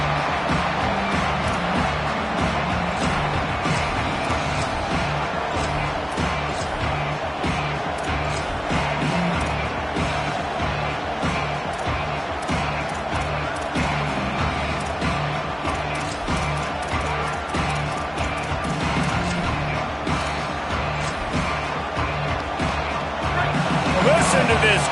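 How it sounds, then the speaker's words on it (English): A stadium crowd at a college football game roars continuously as the home fans try to help their defense, with a commentator talking over the dense, loud cheering throughout. "Listen to this crowd just shaking the girders of this place, trying to help their defense."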